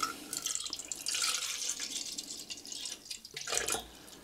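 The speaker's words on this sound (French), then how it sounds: "on va mettre l'eau, déjà pour commencer" Water pours steadily into a boilie bait mix for carp fishing, a close splashing trickle with a brief pause and a final stronger gush, no speech.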